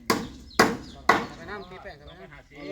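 Three loud hammer blows strike wood at an even half-second rhythm during construction of stairs for a wooden house, followed by a person speaking nearby.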